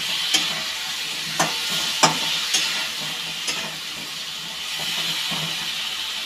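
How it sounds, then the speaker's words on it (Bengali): Chana dal paste with turmeric and salt frying in a pan, a constant close hiss of sizzling punctuated by several sharp spatula taps against the pan as it is stirred. "নাড়া দিয়ে নিই।"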